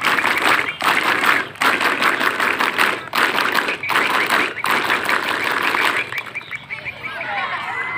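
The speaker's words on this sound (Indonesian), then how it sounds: "Dua kali tepuk pramuka." A large group of scouts at a scout jamboree clap the rhythmic scout clap together, loud and close, with dense rapid claps broken by short regular pauses and a voice calling out near the end.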